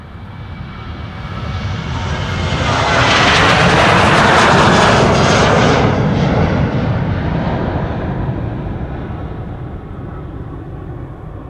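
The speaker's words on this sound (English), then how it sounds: "another Transavia. Transavia flight 6337 going to Valencia in España." A Transavia jet airliner takes off from Amsterdam Schiphol on a flight to Valencia, its broad engine roar swelling to a loud peak midway and then slowly fading as it climbs away.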